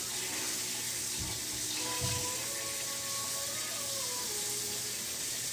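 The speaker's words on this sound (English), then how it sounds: "Rinse that out." Tap water runs steadily over a tie-dyed shirt being rinsed in a sink, a continuous close hiss with a few splashy bursts as the fabric moves under the stream.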